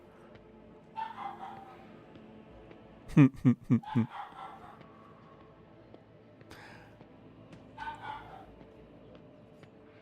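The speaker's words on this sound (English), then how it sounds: "I think the barks are getting through, but the howling isn't." A dog in the room gives a quick run of four or five sharp barks in the middle, with softer whimpers and yips before and after, near and fairly loud, while a person briefly speaks.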